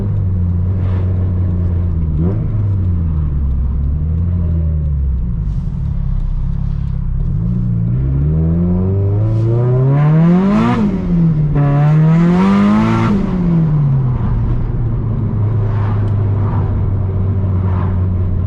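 Nissan S15 drift car with hydraulic handbrake on low boost, engine revving hard up through second gear, rising and falling harmonics as the throttle swells, loud and close from inside the cabin, no talking.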